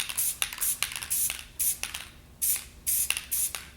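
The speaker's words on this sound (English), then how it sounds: "We're okay with spraying a little bit into these areas here." Spray can painting in fire orange, with repeated short hissing bursts of aerosol paint, each lasting about a quarter to half a second, separated by brief pauses and close to the listener.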